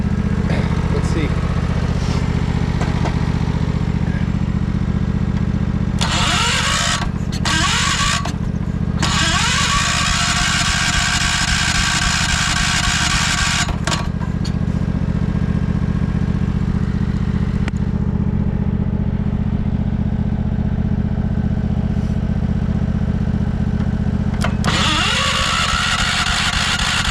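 A 1968 John Deere 140 lawn tractor engine running with a loud, steady low drone throughout, rising briefly into harsher revving bursts, with a voice speaking over it.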